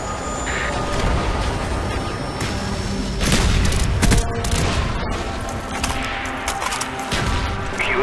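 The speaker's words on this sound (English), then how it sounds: "Friendly mortars inbound." Friendly mortar strikes explode in a modern military shooter video game, building into a loud, dense barrage of booms and crackling debris that swells mid-clip and continues without a pause.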